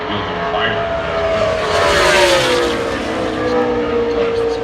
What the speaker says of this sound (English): Here he comes, Jimmy Johnson across the line.